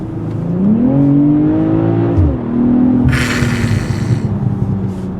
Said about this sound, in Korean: M340i의 이 배기음도 너무 좋아요